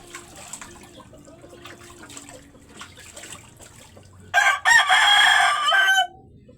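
A chicken makes soft, scattered clucks, then a rooster lets out one loud, close crow that lasts about two seconds before cutting off.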